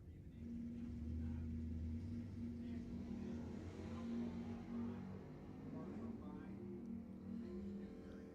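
Drag racing cars at Lebanon Valley Dragway, heard as a distant, steady engine rumble and rising roar under a track announcer's commentary.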